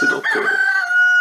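A Montcuq rooster crows loudly and close by in one sustained, ringing call, with a brief spoken voice at the start.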